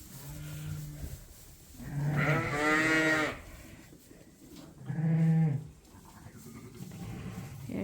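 Ewes in a lambing pen bleat loudly and close by in two long calls, with quieter rustling and movement between them.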